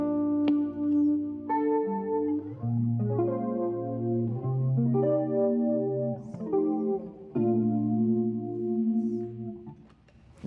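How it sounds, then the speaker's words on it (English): Electric guitar run through an ADA flanger pedal, sustained chords and notes swirling with a sweeping, jet-like modulation, played alone and up close with no talking. "I use a ADA flange pedal once in a while"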